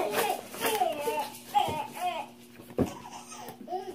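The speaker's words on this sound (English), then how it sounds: "I apologize for the kids in the background" Young children chatter and play nearby in a home, their voices rising and falling in short bursts with a few sharp thumps and laugh-like cries, fairly close and steady throughout.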